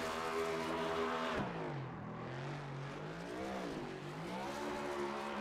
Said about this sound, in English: Oh, he will do burnout.